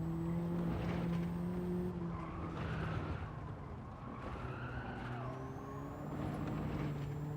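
Race car engine in a racing video game, with traction control off and a low gear held, blipped twice on the throttle, then revving hard with boost and tire squeal, loud and continuous throughout.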